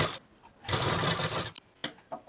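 A sewing machine stitches blouse fabric for a katori blouse in one steady run of about a second, followed by a few short clicks and taps nearby.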